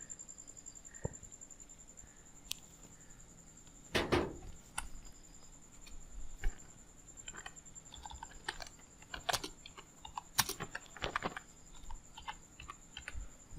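Soft, scattered keystrokes tap on a keyboard in a quiet room, coming in short irregular bursts with a couple of sharper clicks, faint and close.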